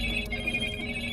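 In a video game, a telephone rings with a bright, steady electronic tone that continues over a low background hum.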